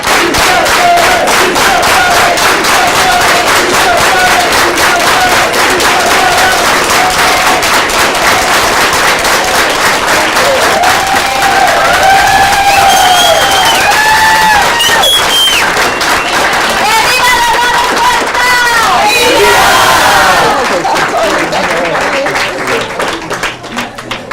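Rally crowd at a Dolores Huerta event in Bakersfield chanting together and clapping in unison, a loud, dense, rhythmic roar of voices and hands that keeps going before cutting off near the end.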